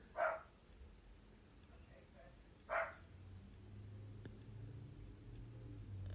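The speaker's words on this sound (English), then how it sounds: "My dog is barking like insane." A dog barks twice at a distance, a few seconds apart, over a low background hum, with no other voices.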